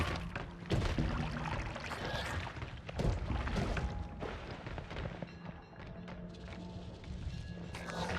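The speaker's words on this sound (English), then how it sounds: "Fireworks." Fireworks burst in the video game Noita, a busy run of sharp cracks and pops with crackling debris and thuds, loud and irregular across several seconds with no speech.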